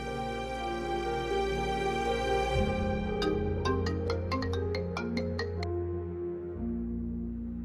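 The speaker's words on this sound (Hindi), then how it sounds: "रज़ा को फोन मिलाती हूँ।" A telephone ringtone plays steadily and clearly, a repeating electronic tune ringing on its own without any voices.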